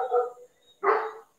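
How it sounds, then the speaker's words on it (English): Dogs on a livestock goat farm bark in two loud, close bursts separated by a short pause. "you hear the dogs clearly"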